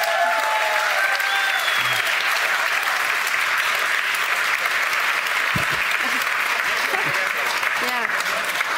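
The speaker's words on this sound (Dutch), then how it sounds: "zullen we heel even de makers van de film een applaus geven" An audience at a film premiere applauds the film makers, dense, loud and steady clapping filling the room, with a voice briefly heard over it near the start.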